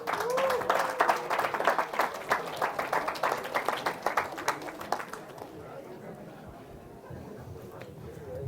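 An audience at a tech seminar at SRM Institute of Science and Technology, Chennai, claps loudly and steadily for a phone magic trick. The dense applause fades after about five seconds into quiet room noise.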